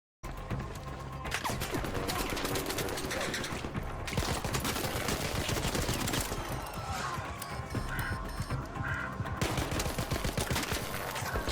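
Dense bursts of gunfire and rapid automatic fire ring out during a match of the video game ARC Raiders, loud, continuous and busy, with mechanical clatter mixed in throughout.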